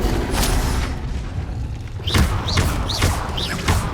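Incendio fire spell cast repeatedly in Hogwarts Legacy: whooshing, booming bursts land about every half second over a steady rumbling background.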